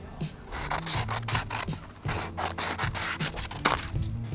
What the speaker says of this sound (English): Next up was 1000 grit sandpaper.